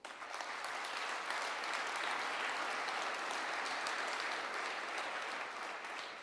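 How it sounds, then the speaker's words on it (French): Audience at an Action Logement New Year's greetings ceremony applauds in a dense, steady wash of clapping that holds evenly throughout, moderately distant in a large room. "on peut l'applaudir aussi."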